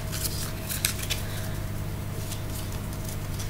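Pokémon trading cards are shuffled by hand, making quick soft papery flicks and rustles at close range over a low steady background hum, with no talking.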